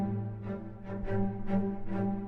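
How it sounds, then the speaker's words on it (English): Short spiccato strings from a Spitfire Hans Zimmer string library play a repeating rhythmic pattern of bouncy, detached notes, moderately loud and unaccompanied, with pulses swelling every half second or so. "I used the new Zimmer articulations that they released, the shorts. This is the spiccato."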